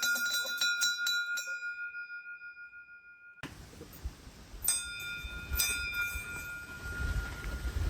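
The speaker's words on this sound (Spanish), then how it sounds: "vamos a hacer sonar esta campana para espantar los osos que vemos" A hand bell, rung to scare off bears on the Nakasendo trail in Japan, gives several bright clear strikes that ring out and fade, followed by quiet outdoor ambience and a couple of fainter later rings.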